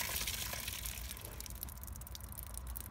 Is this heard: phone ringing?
no